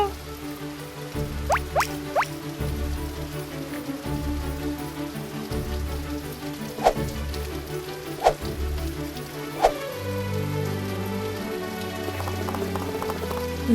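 Rain patters steadily on a campsite, a dense close hiss of drops with occasional sharper splashes and knocks standing out over a low background.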